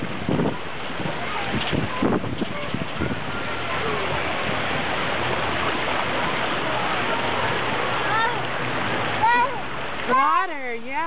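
Water from a fountain splashes and trickles steadily and close by, with an infant's babbling voice and an adult talking over it.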